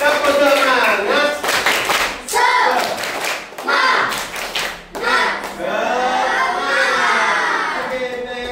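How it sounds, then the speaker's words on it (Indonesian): Children in a classroom perform a rhythmic spirit clap, short bursts of patterned group clapping alternating with loud chanted shouting voices, bright and close, the claps and chant interleaved in quick phrases. "Oke, tepuk tangannya. Tepuk semangat."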